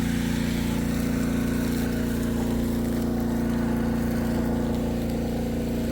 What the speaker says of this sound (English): That's a really strong pump, right?